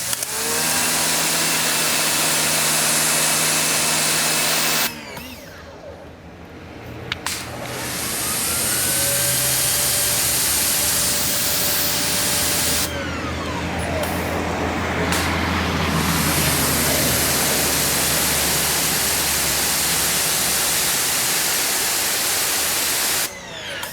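An EGO Power+ battery pressure washer runs at different power levels as the gun is triggered, giving a loud, steady hiss and motor whine that cuts out briefly and resumes several times over about twenty seconds.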